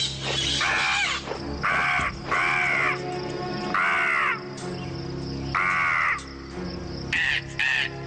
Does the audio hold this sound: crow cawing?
yes